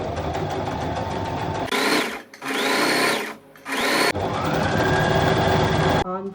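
A sewing machine stitches a halter cover-neck blouse, folded fabric with canvas, in several loud continuous whirring runs broken by short pauses, close by and without talk.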